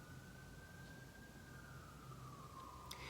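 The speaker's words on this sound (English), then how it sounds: "can you hear that siren in the background?" An emergency siren wails in the distance, a long steady tone slowly falling in pitch over a few seconds, faint behind quiet room ambience with no one speaking.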